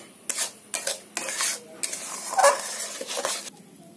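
A powdered milk mixture for gujiya sandesh is stirred briskly in a bowl, giving about six close, scraping strokes in a steady rhythm separated by short pauses.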